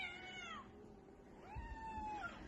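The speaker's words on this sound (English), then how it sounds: "this can be described as a swarm of cats" A crowd of hungry cats meows loudly, with two drawn-out, rising-and-falling calls overlapping one another over a soft background.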